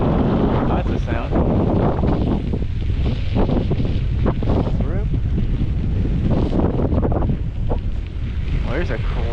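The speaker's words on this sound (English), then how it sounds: "Oh, there's a crazy wind." Strong wind buffets the microphone throughout, a loud continuous roar with gusting rumble, while a person talks over it.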